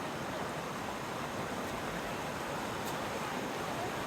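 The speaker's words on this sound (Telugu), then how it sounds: "So we are at Chapra. ఏదేదో వాటర్ ఫాల్స్ లాగా ఉంది" The Chapra cascade gives off a steady, broad rush of falling water. It is fairly faint and holds constant, with no talk over it.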